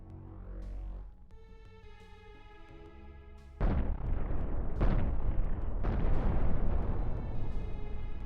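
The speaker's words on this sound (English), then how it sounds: "We're gonna fire the cannons?" Spaceship cannons fire in the video game Cosmoteer: after a quieter musical stretch, a series of heavy booming blasts erupts, several sharp impacts over a dense, loud rumble.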